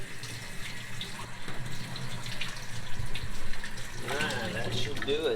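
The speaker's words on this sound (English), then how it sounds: "I'll just keep pushing that water through that filter" Water is pushed through a LaPierre Siro maple syrup filter during rinsing, giving a steady close splashing and running-water wash that grows busier toward the end.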